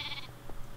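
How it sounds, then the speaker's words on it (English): A sheep bleats in the Minecraft paintball minigame, a short, fairly faint game-sound bleat over a low background hum. "Oh, it's a sheep."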